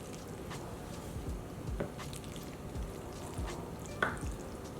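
Pasta is stirred into baked vegan feta in a dish, producing soft, moist squishing and gentle scraping with a few wet clicks, quiet and close, with no talk.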